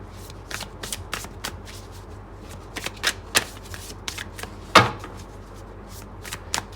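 A tarot deck is shuffled by hand close up, a run of crisp riffling flicks and soft card slaps in an irregular rhythm, with no talking.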